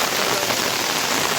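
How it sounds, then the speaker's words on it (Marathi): Heavy rain pours down in a Konkan village, a dense, loud patter of drops hitting surfaces without any break or voices. "बघा पण पाऊस चालूच आहे गावाला."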